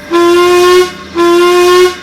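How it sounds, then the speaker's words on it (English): Two long, steady tonal whistles, each lasting most of a second with a short gap between, sound clearly and loudly in the foggy video game The Desperate Times. "Maybe I should whistle at them."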